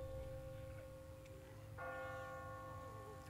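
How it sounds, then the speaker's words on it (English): A church-style bell rings in The Walking Dead video game, a sustained tolling tone with a second strike partway through, heard quietly with no talking. "Oh, awesome. The bell rang."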